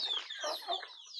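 Chickens cluck in a backyard coop where a very large rooster stands among big hens, the clucks close and busy over a short stretch with no talking.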